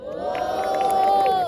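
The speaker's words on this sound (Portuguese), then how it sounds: "Eu quero ouvir muito barulho pra quem gostou das rimas da Joaltão" A crowd at a Brazilian rap battle during a festa junina event roars and cheers for a vote, a sustained loud swell of voices with shouting on top, lasting the whole brief moment.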